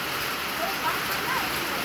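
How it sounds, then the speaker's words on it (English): Hail patters steadily across surfaces during a hail storm at a ranch in Armenia, a dense close rattle with faint voices under it. "Here's some hail right here."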